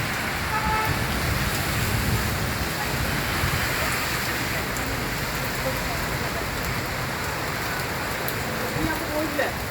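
Steady heavy rain falling on a street in Kanhangad, a dense constant hiss with vehicles passing and a horn now and then, while a voice speaks nearby.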